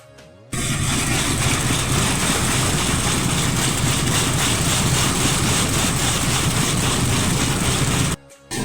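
A tractor engine rumbles loudly and close by at a steady, low throb, starting just after the beginning and cutting off shortly before the end.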